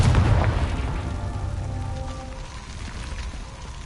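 A Confringo fire blast spell in Hogwarts Legacy erupts as a loud, deep boom at the start, then decays into a fizzling, rumbling tail that fades over a few seconds, with no voices.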